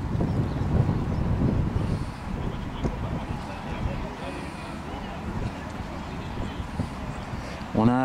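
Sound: steady wind at a model sailboat pond

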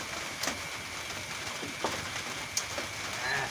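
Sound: rain falling

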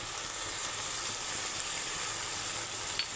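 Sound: sizzling as ginger garlic paste is added to frying shrimp

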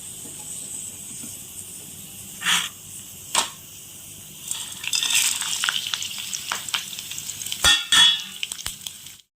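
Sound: tempering tamarind rice ingredients frying in oil

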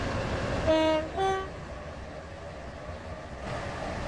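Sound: Class 717 train running, from a video game

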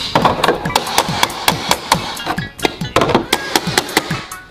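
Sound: toy hammer hitting a toy set

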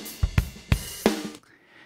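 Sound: snare drum with short plate reverb on beat 2

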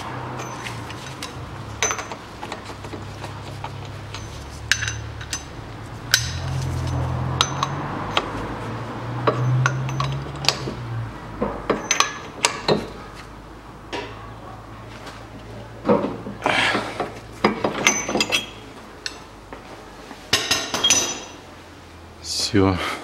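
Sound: tightening a nut while replacing a Nissan X-Trail CV joint

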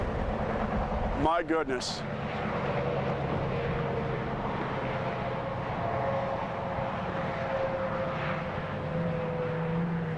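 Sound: Falcon 9 rocket launch roar, Iridium 4 mission

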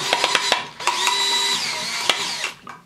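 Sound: power drill driving screw into electrical box

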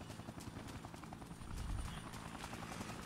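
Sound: helicopter in video game Dead Rising

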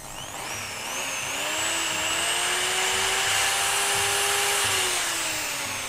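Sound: Makita or Hitachi hammer drill running

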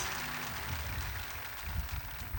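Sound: applause for a singer

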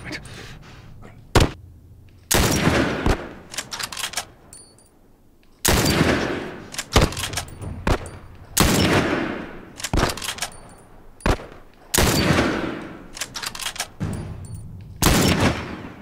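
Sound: gunfire in the video game The Last of Us

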